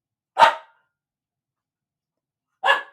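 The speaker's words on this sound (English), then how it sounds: "Henry, stop barking" Two sharp dog barks, close and separated by about two seconds of silence.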